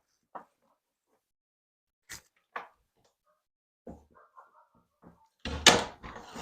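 A door closes over a knotted belt amid scattered soft knocks and rustles, ending in a louder thud and scrape, all in a quiet room without talk.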